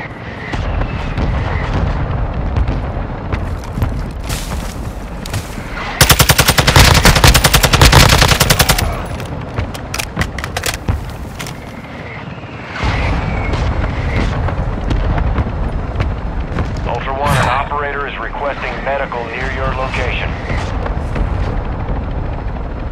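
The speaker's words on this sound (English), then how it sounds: "Mortar strike inbound now." Mortar strike explosions in the Call of Duty Modern Warfare II DMZ mode: a dense, loud burst of blasts and rapid gunfire-like crackle lasting a few seconds, set within continuous battle noise and rumble.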